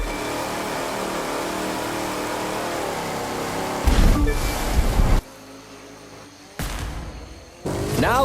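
Boats racing across open water in the racing game The Crew 2, with a steady engine drone over rushing spray, then loud surf splashes and revving engines, and abrupt cuts to quieter water sound, without any voices.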